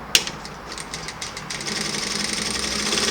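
An MS-9800KR electronic automatic thread-cutting lockstitch sewing machine stitches close by, a fast rhythmic mechanical ticking that starts with a sharp click and speeds into a steady whirring run.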